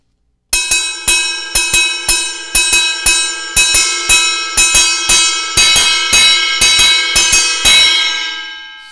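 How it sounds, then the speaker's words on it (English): Ride cymbal ringing in a steady triplet-feel pattern for a drum part, bright sustained wash with evenly spaced strikes, close and loud, played alone. "The second part is the ride cymbal pattern"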